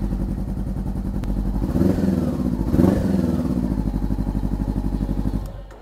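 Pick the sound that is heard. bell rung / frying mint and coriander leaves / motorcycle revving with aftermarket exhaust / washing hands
motorcycle revving with aftermarket exhaust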